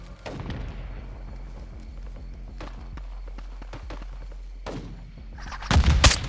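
Call of Duty combat gunfire pops in quick bursts over a low rumbling background, building to a loud, close cluster of shots near the end.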